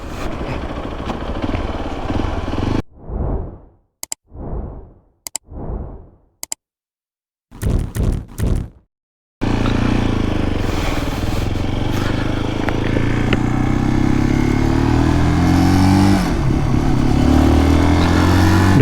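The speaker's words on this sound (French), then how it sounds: "ce moteur, c'est un petit moteur qui fait pas tout à fait 40 chevaux" A 2023 Zontes GK 350 motorcycle with a single-cylinder 350 cc engine of just under 40 hp, heard first in short, choppy revving bursts separated by silence, then as a loud, steady, continuous engine roar.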